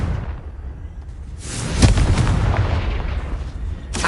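A Confringo blasting spell from the Hogwarts Legacy video game bursts into a heavy, booming explosion with a sharp crack and rumbling tail, loud and close, followed by another blast at the end.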